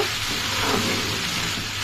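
Bitter gourd frying with dried fish (shutki) in a pan gives a steady, even sizzle that holds throughout at moderate loudness, with no voices.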